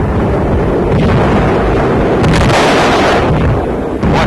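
A Japanese artillery shell scores a direct hit on Guam in World War II, a loud sustained roar of blast and rumble with a sharper burst swelling midway, rough and distorted.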